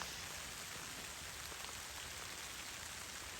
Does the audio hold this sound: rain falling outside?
yes